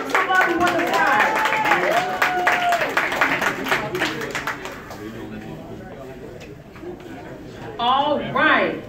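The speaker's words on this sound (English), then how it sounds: "Clap it up for him." An audience at an MLK Day empowerment event claps and applauds in a dense burst that fades midway, while a speaker talks over it on a microphone and voices return near the end.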